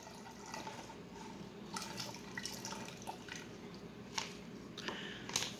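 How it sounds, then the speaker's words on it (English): Omega liquid yeast poured into a home-brewed American lager, a soft close trickle and splashing of liquid with light drips and squishy sounds over a steady background hiss. "Add this omega yeast. It's a liquid yeast, and here we go."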